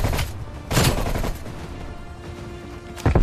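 Gunfire in the shooter game Black Ops Cold War during a VIP Escort match: a few loud, close weapon reports, the first bursts early and another sharp crack at the end, over a steady game background.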